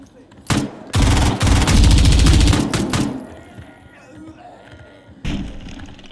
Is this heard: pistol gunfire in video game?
yes